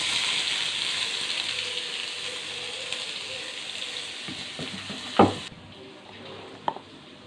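Onions sizzle steadily in hot oil with fennel seeds in a pan while making karamani and white chana cutlets, a close hiss with a couple of stirring clinks near the end.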